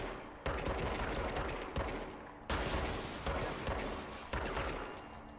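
Grip pistol from the video game Control firing in long, loud rapid bursts, three or four sustained volleys separated by brief gaps, harsh and close with no talk over them.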